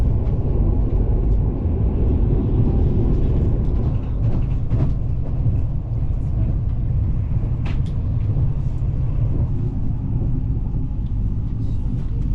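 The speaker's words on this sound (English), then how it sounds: "Welcome you on board a high-speed intercity train." A steady low rumble of a high-speed intercity train in motion in Ukraine, with constant rolling wheel noise and occasional faint rattles and clicks, loud and unbroken throughout.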